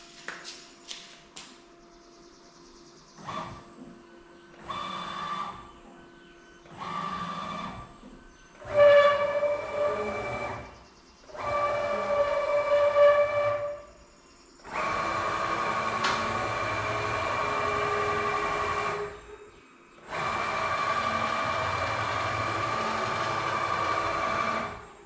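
Home-built CNC machine axes driven at half speed, a loud whining motor tone in repeated bursts of a few seconds each, rising and holding then cutting off, with longer runs toward the end.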